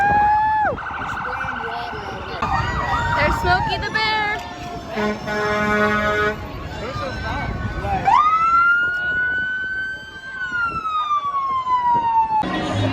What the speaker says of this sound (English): Here comes the fire truck.